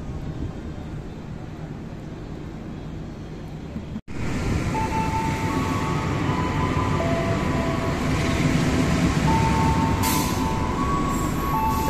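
The Argo Parahyangan train, hauled by locomotive CC206 13 81, runs straight through Cikampek station without stopping, giving a loud, continuous roar and rumble of rolling wagons with faint whistle-like tones, recorded up close.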